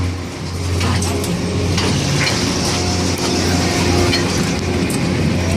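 An old Zipper carnival ride rattles and creaks loudly in a continuous clattering, metallic rumble, with occasional sharp knocks over a low mechanical drone.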